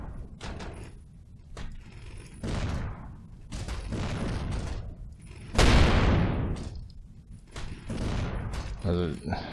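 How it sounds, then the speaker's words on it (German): Spaceship weapons in the Avorion space game fire in a series of short separate bursts, each with a sharp onset and decay, one louder blast near the middle, with someone talking between them. "Müssen wir mal kurze Salben schießen."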